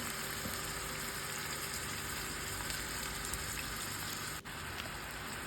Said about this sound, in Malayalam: അപ്പോൾ നമുക്ക് നമ്മളെ ചെമ്മീനെല്ലാം വെളിച്ചെണ്ണയിലിട്ട് ഫ്രൈ ചെയ്യാൻ വെക്കാം